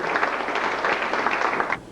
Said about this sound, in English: Do you two want to stand up and take a round of applause?